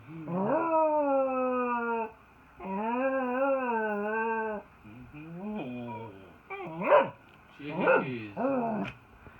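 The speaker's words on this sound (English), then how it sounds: "That is a bark and a whine." A dog gives long, drawn-out vocal whines and howl-like cries with a rising and falling pitch, followed by a few sharper bark-like yelps near the end, close and fairly loud.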